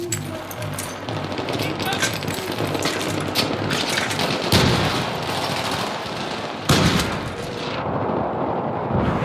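Grenades blast in Battlefield 3 amid constant loud gunfire, with two sharp, heavy bursts standing out from the dense battle noise.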